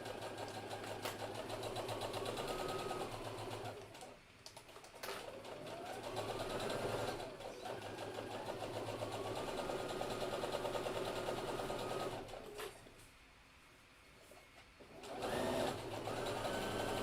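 A sewing machine stitches a quarter-inch seam on a hidden-zipper pillow, a steady close whirring run that stops briefly twice and then starts again, with no voices.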